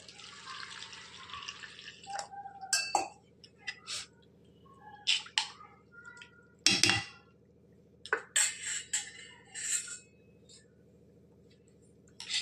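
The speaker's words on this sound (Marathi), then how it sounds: "आता याच्यामध्ये आपण पाणी मिक्स करत आहोत" Water drips and splashes in short irregular bursts into sorghum flour and yogurt, with spoon scraping and mixing sounds against a bowl, close and fairly quiet.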